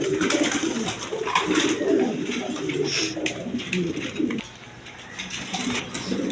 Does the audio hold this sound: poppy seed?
no